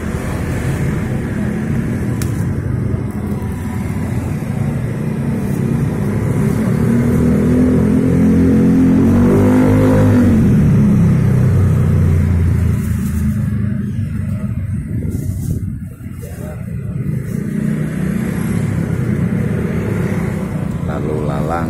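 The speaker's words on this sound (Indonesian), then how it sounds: "Lalu lalang, lalu lintas KR2 sama KR4." Motorbike and car traffic passing outside Cidodol market on Jalan Panjang in Kebayoran Lama, Jakarta, a continuous loud rumble of engines with one vehicle swelling past at close range, under occasional talk.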